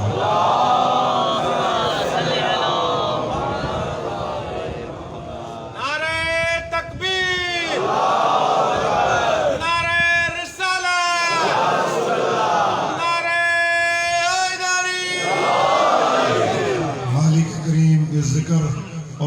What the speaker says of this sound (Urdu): دعاؤں کی قبولیت کے لیے اب سب مل کے صلوات پڑھی